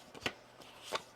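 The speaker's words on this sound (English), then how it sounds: "One more shuffle." A tarot deck shuffled in a few quick, soft bursts of papery riffling, faint and close, with short pauses between.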